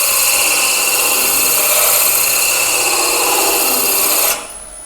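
A finer texturing wheel rasps against a wooden spinning top on a wood lathe, making a loud, steady whirring scrape that holds for about four seconds and then cuts off abruptly, leaving a quieter motor hum.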